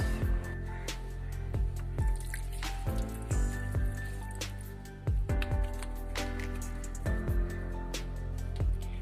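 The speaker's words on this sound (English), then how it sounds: "I'm gonna wash my face once again with this face wash" Face being washed with face wash and water: close, wet splashes and drips in an irregular rhythm, with running water trickling underneath, no talk.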